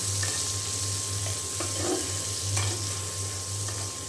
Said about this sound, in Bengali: এখন পেঁয়াজটি ভালো করে ভেজে নেব